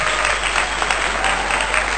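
Audience applause after an Arabic proverb is read aloud at an Indonesian talk on patience, a steady dense clapping that holds evenly through the whole stretch with no voices over it.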